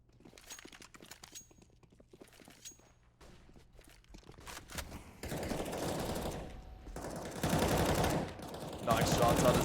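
Rapid gunfire bursts in a Counter-Strike match on the Mirage map during a professional esports game, sharp repeated shots with footsteps, growing louder and denser toward the end.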